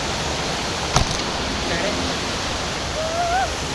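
Water rushes loudly and steadily at a waterfall or stream during a family outing in nature, a constant broadband roar with a brief knock near the start and faint voices in the background.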